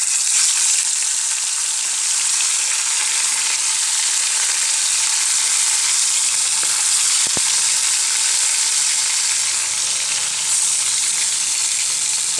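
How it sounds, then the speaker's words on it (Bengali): Fish frying in hot oil in a wok, giving a loud, dense, unbroken sizzle that holds steady throughout without pause; no voices. "তেলটা গরম হয়ে এসেছে, এখন আমি মাছটা দিয়ে দেব"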